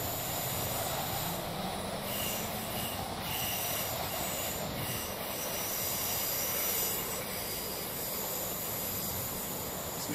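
Train in the Train Simulator game on the London Cannon Street to Hayes line, reversing toward a platform: a steady, loud broadband rumble of wheels and running gear with hiss and faint high squealing throughout.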